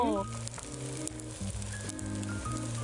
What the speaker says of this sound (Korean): 저는 이 부침개 소리만 들어도 좋아요.